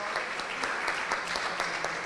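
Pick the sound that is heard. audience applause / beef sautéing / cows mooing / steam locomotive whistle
audience applause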